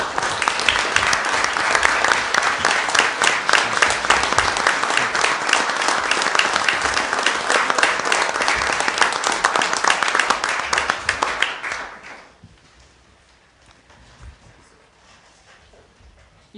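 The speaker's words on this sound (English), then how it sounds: "join me in a round of applause to thank Chuck for his commitment to Bethel Park" School board meeting audience of board members, administrators and attendees applauding to thank a departing member, loud dense clapping for about twelve seconds before fading into quiet room tone.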